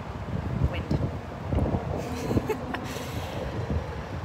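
Wind blowing across a microphone during a roadside stop on a cross-country motorcycle trip in about 96-degree heat, a steady low rumbling buffet with gusty swells, with faint voices underneath.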